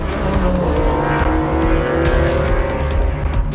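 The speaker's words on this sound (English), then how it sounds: "it is the GT1s that are out in front, headed toward the right-hander, taking them out onto the back part of the course." Porsche GT1 race cars at Le Mans roar steadily and loudly for several seconds, engines droning at high revs with a continuous dense note, no voices.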